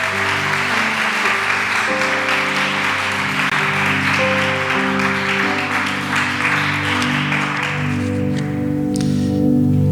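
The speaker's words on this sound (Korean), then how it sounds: "박수합니다." Congregation applauding at a Korean Presbyterian church elder ordination service, steady sustained clapping over organ or keyboard chords, continuous and fairly loud for the whole stretch.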